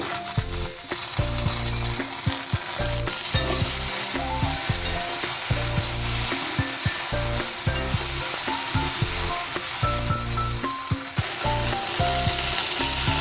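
Halved okra frying with salt in a pan for a bhindi alu posto recipe: a continuous bright sizzle under repeated scraping and stirring strokes from a spatula, close and fairly loud, with no talking.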